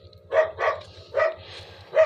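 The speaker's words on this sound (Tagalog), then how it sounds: "Aso namin na ingay kasi may pumasok sa gate." Several dogs bark as someone comes in through a gate, with four sharp, loud barks at irregular intervals and a steady low hum underneath.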